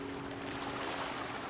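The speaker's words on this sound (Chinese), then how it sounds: "我在后面又用了另外一个海浪的声音" Ocean waves wash in a steady, continuous hiss of surf with a faint wind-like rush, used as a sound effect; it is moderately loud and even, with no voices.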